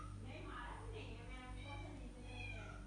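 A cat meows several times indoors, the calls rising over steady background hum with faint voices nearby.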